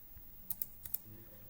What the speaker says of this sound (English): total marks you can just type in